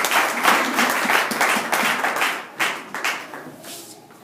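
A church congregation applauding, with a burst of dense clapping that stays strong for a couple of seconds, then thins into scattered claps and fades, heard up close in the room.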